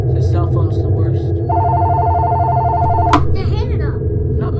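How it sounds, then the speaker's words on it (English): A cell phone rings indoors with a steady electronic tone lasting about two seconds, then cuts off, while people talk around it. "That was my phone."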